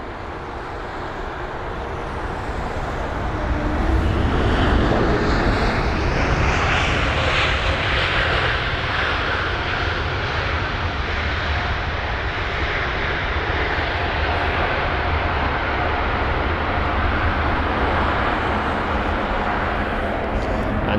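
A flight from Zurich, registration HB-JDF, passes at Heathrow, its engine roar swelling over the first few seconds and then holding as a loud, steady broadband rush with no talk.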